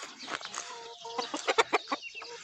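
Hens outdoors at 6:30 in the morning cluck softly and steadily close by, rising into a few louder, sharper clucks near the end.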